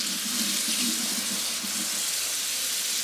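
Tap water runs steadily into a strainer to rinse broccoli at a kitchen sink, giving a close, continuous hiss and splatter with no voices.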